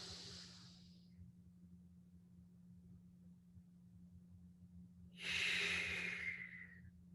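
Two close, breathy intakes of air through the nose during a kneeling wellness exercise: a soft one at the start, then after a quiet pause a louder, longer sniffing inhale, with no talking.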